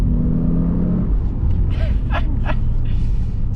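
A 2015 Audi S8 drives on wet, poor road conditions. Its engine gives a low, steady rumble close by, while people in the car make faint voices and breathy sounds over it.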